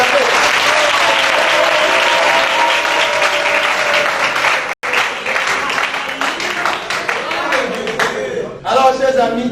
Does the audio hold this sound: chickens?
no